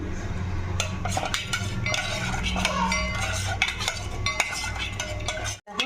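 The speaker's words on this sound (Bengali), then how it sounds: "এবার দইটাকে আমি মিক্স করে দেবো" A spoon stirs yogurt in a bowl, producing a continuous scraping swirl with light clinks against the bowl, close and fairly quiet.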